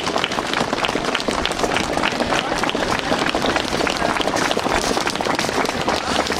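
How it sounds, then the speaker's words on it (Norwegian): A dense, even wash of clapping from an audience at a 2010 national biathlon sprint championship prize ceremony in Stryn, continuous and close throughout. "de fortjener da så klart en stor applaus før vi slipper dem ned fra scenen"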